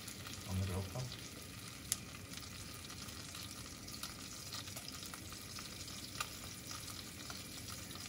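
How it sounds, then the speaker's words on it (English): Egg-dipped bread fries on a grill pan with a faint, steady sizzle, a soft thud near the start and a couple of small clicks later, quiet and without talk. "A few tosses on each side I'll do in the egg mixture, and then put a piece down on the grill pan."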